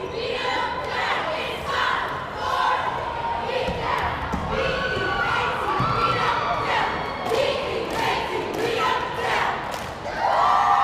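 Medford cheerleaders chant and shout in unison during a high school boys basketball game against Somerville at Tufts, their loud, rhythmic calls echoing over a noisy crowd with occasional thuds from the gym.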